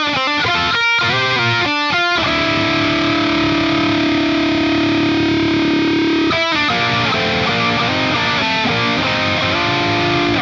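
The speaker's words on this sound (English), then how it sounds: "That's actually really clear distortion sound." Distorted electric guitar through the Neural DSP Archetype amp simulator, playing chords with a long sustained note in the middle, then more rhythmic chord strums; loud and up close.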